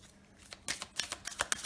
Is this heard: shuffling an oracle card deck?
yes